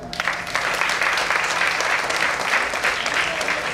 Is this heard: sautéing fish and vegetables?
no